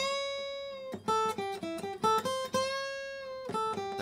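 Guitar string bent up a half step, heard as a few clear plucked notes that rise slightly in pitch, close and moderately quiet, ringing alone without talk.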